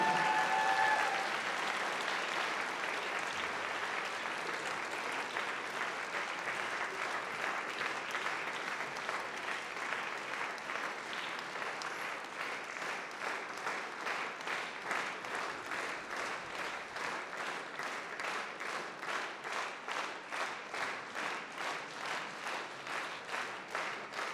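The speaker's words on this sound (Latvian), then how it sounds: "Sagaidām ar aplausiem!" An audience in a concert hall applauds a folk dance group, steady loud clapping that starts as a dense wash and gradually turns into rhythmic unison claps toward the end.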